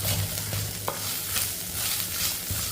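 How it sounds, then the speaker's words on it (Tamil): Curry leaves, chopped green chillies and ginger sautéing in a hot pan, a steady close sizzle with intermittent stirring scrapes, no speech. "கொஞ்சமாக கருவேப்பிலை பிச்சு போட்டுக்கிடுவோம். 2 பச்சை மிளகாய் நறுக்கி போட்டுக்கிடுவோம். இதை நல்லா வதக்கி விட்டுருவோம்."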